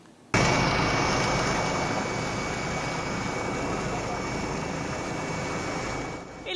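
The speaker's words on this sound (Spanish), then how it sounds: "El helicóptero aeropolicial seguía desde el aire a un grupo de delincuentes" A police helicopter flies overhead, a steady, loud rotor and turbine roar that starts abruptly and holds for several seconds before easing slightly.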